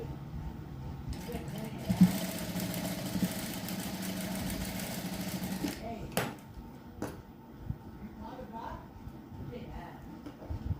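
Sewing machine stitching a straight seam along a folded frill on a blouse, a steady mid-pitched whir running continuously under nearby talk, with a few light clicks and thumps toward the end.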